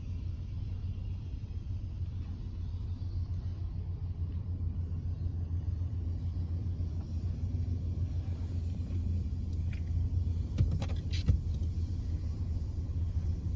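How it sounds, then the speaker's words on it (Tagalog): Steady road traffic rolls past near a house in Edmonton, close to ongoing rail construction: a continuous low rumble of cars stays even throughout, with a slightly louder passing vehicle near the end and no voices. "Traffic."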